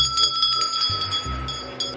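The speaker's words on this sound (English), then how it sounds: "Let's ring the bell." A bell rung indoors, its bright ringing tones sustained and overlapping across two seconds, loud and close with no talking.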